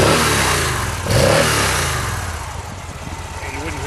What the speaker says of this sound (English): You wouldn't hear that motor vibrating away if it had loud pipes.